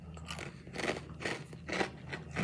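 Several crisp crunches from biting and chewing a hard, cumin-spiced Indian fried snack stick, close up, in irregular bursts with no talking.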